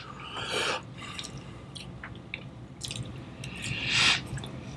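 Water dripped into a glass of peated Scotch whisky at a tasting: a few small, wet drips and splashes spread out, close and fairly soft, with one fuller splash near the end and no talk.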